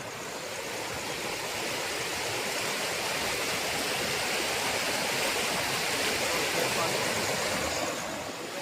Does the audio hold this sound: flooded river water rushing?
yes